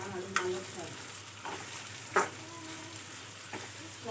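Ivy gourd fry mixture sizzling in a pan with salt and fenugreek powder, stirred in a few distinct scrapes spaced about a second apart over a soft steady frying hiss, close and without voices.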